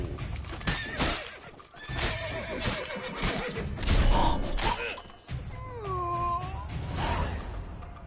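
Horses neigh and whinny in The Witcher 3 amid a noisy game scene, loud drawn-out whinnies rising and falling over clattering, shouting-like background clamor and hoof sounds.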